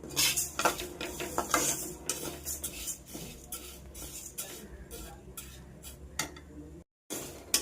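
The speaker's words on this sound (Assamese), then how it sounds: "মুগা দালি ভাজি আছোঁ" Moong dal roasts dry in a wok, a spatula scraping and clinking against the metal in quiet irregular strokes, close but faint, with no voices.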